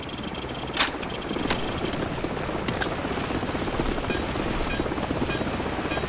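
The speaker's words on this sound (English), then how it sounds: "grab a Stinger and take out that chopper." A chopper's steady rotor and engine roar fills the whole stretch in the Call of Duty 4: Modern Warfare mission Hunted, loud and continuous with faint mechanical clicks and scrapes layered over it.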